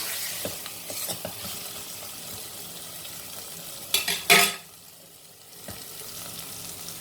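Macaroni and potatoes for a Sindhi aloo macaroni sabzi are stirred and fried in a pan, a steady sizzle running throughout with a few scraping clatters of the spoon and a brief louder burst of stirring midway.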